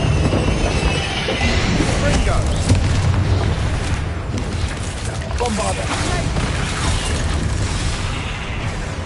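A Bombarda blasting spell explodes in Hogwarts Legacy, giving a loud, sustained rumbling burst with heavy low-end boom that fills the whole stretch without letting up.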